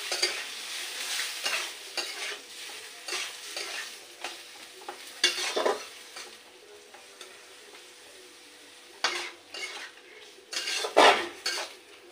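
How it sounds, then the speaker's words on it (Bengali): Sauce being stirred in a frying pan over lowered heat, with close, repeated scrapes and clinks of a metal utensil against the pan over a soft sizzle, in uneven bursts. "এবার নাড়াচাড়া দিয়ে নিলাম"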